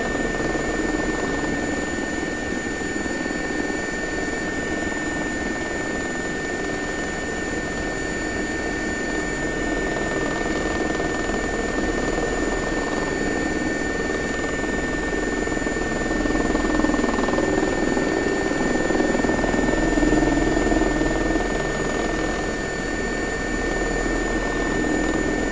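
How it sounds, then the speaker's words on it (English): Air ambulance helicopter in the X-Plane 11 flight simulator, with a continuous loud rotor and turbine drone and steady high whine, holding fairly even for the whole stretch. "Is the aircraft a bit too loud or is it okay?"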